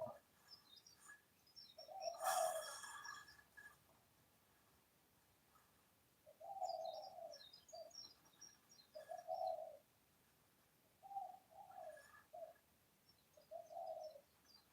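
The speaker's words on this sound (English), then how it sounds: "My good zebra dove." Soft, repeated cooing of a zebra dove in short phrases, fairly near, outdoors in Hawaii, with faint chirps from other birds in the background and a quiet ambience.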